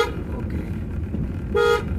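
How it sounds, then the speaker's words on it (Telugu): A car horn gives one short, clear honk near the end, over a steady engine hum inside a car during a driving lesson on a narrow lane. "హార్న్ ఇక్కడ హార్న్ ఓకే"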